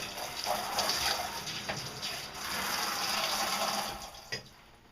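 Running water rinses a bathtub before an Old English Sheepdog's bath, a steady close splashing rush that holds for several seconds, then tapers off with a brief spatter near the end.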